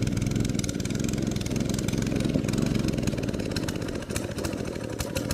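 The small engine of a go-kart runs continuously up close, a loud, buzzy, rough putter with a steady rhythmic chug and a brief dip near the end.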